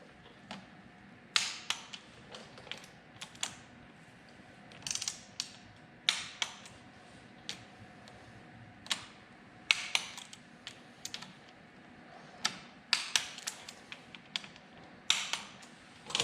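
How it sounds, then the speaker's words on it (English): A torque wrench tightens a bolt to 10 newton meters on a BMW R1200RT motorcycle engine during a valve clearance check, giving a string of sharp ratcheting clicks in irregular bursts, close and clear, with no talking. "now we're going to torque it to 10 Newton meters"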